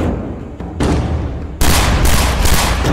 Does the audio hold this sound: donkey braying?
no